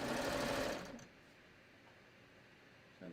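A sewing machine stitches fabric side seams in a quick, rapid whir for under a second, then stops, leaving quiet room tone and a short faint bump at the end.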